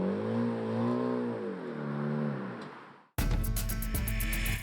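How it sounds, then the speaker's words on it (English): Car with a noisy exhaust revving, its engine pitch rising and falling in a steady drone, then an abrupt cut to a louder, harsher rumble with rapid rattling bursts up close. "Especially if your exhaust is as noisy as this."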